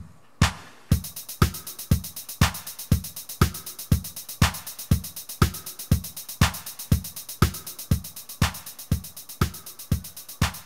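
Plain kick and snare pattern from the step sequencer of a Casio XW-P1 synthesizer, a steady loop of punchy electronic hits repeating evenly for about ten seconds with no talk.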